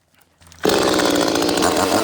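A ported Echo chainsaw cutting a firewood log, a brief quiet lead-in followed by a sudden loud, close roar as the saw bites in and holds at a high, steady pitch.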